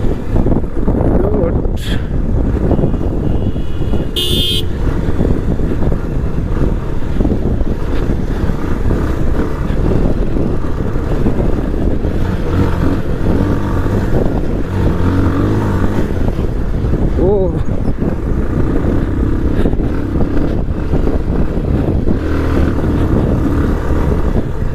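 Motorcycle ride along a rough mountain road in East Nepal, with a steady engine drone and heavy wind buffeting throughout and someone speaking over the noise.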